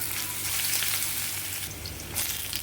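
Crushed ginger and garlic frying in hot oil with cumin, a dense, even crackling sizzle up close that holds steady throughout, with no talking.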